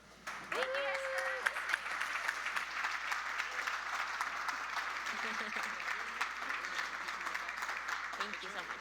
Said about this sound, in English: Keep that round of applause going as we reset the stage real fast.